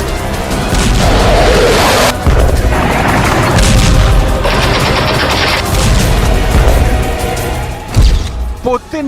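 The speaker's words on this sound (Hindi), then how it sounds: "एक जोरदार धमाका हुआ। पहले धमाके के बाद बैक टू बैक कई एयर स्ट्राइक हुई।" Loud, dense rumbling blasts and crashing booms from air strikes roll on continuously, with heavy low-end impacts and a sharp burst near the end.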